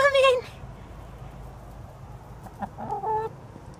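A chicken clucks close by in a few short bursts at the start and again near the end, with a steady low background hum between them and people talking.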